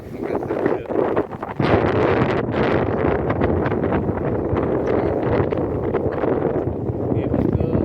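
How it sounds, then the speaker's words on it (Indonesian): Strong, gusty wind buffets the microphone on an open fishing platform (bagan) at Tanjung Kait, with a steady broadband roar that stays loud and continuous throughout. "udah anginnya luar biasa."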